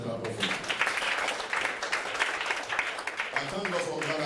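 A church congregation breaks into steady applause during a service, dense overlapping claps filling the room at close range, with a voice speaking over the clapping.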